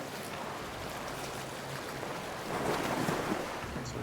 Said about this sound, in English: And as we go through the waterfall,